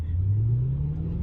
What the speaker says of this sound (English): see how I'm revving it up?